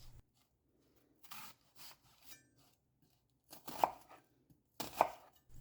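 Sharp knife slicing through onions on a cutting board, several quick close crunchy cuts in uneven bursts with quiet pauses between, no voice present.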